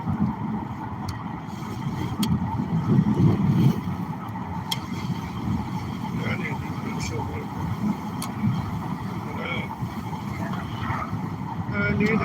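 Strong wind buffets the microphone outdoors with a rumbling, gusting roar that swells and fades throughout, while a person talks over it.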